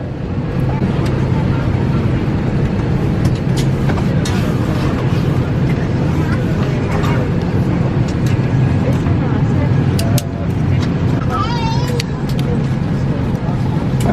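Steady, loud aircraft cabin drone inside a passenger plane, a dense low rumble and hiss filling the whole stretch, with a few faint clicks and background voices murmuring beneath it.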